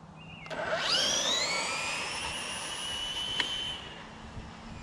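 A Traxxas Drag Slash RC car launches at three-quarter throttle, its electric motor whining up in a rising pitch sweep over about a second, then holding a loud, steady high whine before fading as it runs away.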